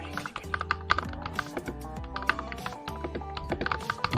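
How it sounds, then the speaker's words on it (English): Rapid, uneven typing on an RK96 mechanical keyboard fitted with RK linear switches, dense clacky keystrokes close up with brief pauses and no talking. "The RK96 comes with RK linear switches, and that's how it sounds. It's very clickety."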